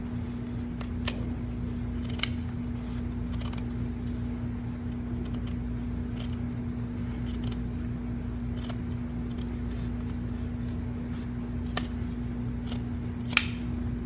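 Scissors snip around the hem of a pair of jeans, with a few scattered faint cuts and clicks over a low steady hum, fairly quiet and with no voices.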